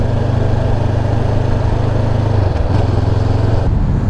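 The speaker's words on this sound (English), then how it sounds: "Because just as you're coming down the rev range, you can just hear it going pop, pop, pop, pop, pop," A 2021 Honda CBR500R motorcycle engine runs loud and close, a steady rumbling drone that dips and changes briefly partway through as the revs shift, with no voices.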